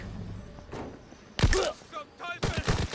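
Gunfire in the World War II shooter Call of Duty: WWII during a suppressed stealth raid, with a sharp loud burst midway and another flurry of cracks near the end, amid scattered game sounds and quiet voices.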